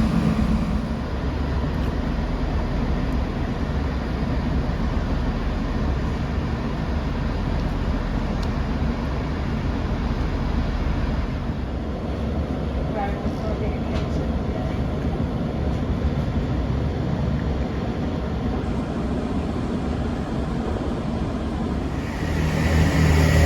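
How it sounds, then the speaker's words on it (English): A Class 165 diesel train, unit 165127, rolls into Oxford sidings with a sustained low rumble and steady wheel and engine noise, heard from a nearby train carriage with no speech. "There goes 165127 going into Oxford sidings."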